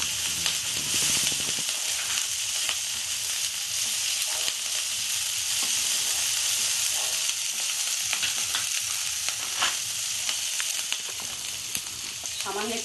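Sliced onion and chopped chillies sizzle in a pan for a Bengali-style soybean and spinach curry, giving a steady, close, crackling hiss that runs unbroken from start to end with no talk over it.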